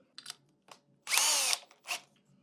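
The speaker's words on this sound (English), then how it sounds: "So let's drill a hole for our wire" A power drill whirs in a loud half-second burst, boring a hole into wood, framed by a few short clicks and a brief trailing rev.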